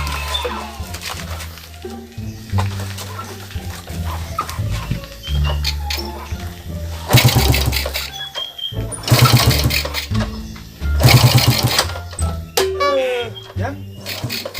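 Red BMW motorbike engine cranking and catching in several loud, sputtering bursts that rise and fall, with people talking over and between the engine noise.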